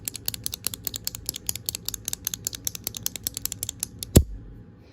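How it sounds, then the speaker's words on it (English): Rapid series of crisp, close clicks from a Pilot 0.38 retractable pen, dozens in quick rhythm, ending with a louder thump. "listen to the click on this one"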